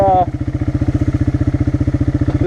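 A small 1989 four-wheeler ATV engine on a trail runs close and loud with a rapid, steady thumping pulse, just after a short burst of higher whine at the start.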